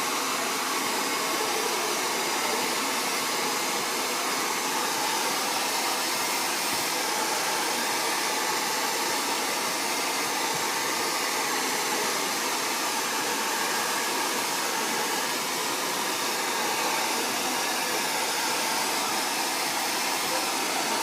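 A hair dryer blows hair dry with a loud, constant whoosh held close throughout, unbroken and steady with no talking over it.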